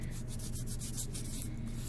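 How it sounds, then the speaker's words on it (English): Sandpaper scrubs steadily across a piece of lead metal, a continuous close rasping with quick back-and-forth strokes and no pauses. "I'm sanding it."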